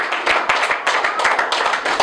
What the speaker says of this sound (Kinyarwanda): tubakomera amashyi, tubakomera amashyi cyane